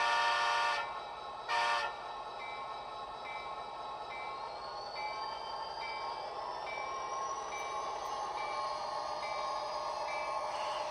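Model trains run on a DCC-EX command station: a continuous steady running hum and rising whine, broken early by two short loud horn-like bursts.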